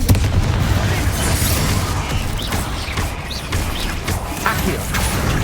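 Confringo fire spell explosions in Hogwarts Legacy, loud booming bursts and crackling impacts in quick succession over a dense rumble of combat effects.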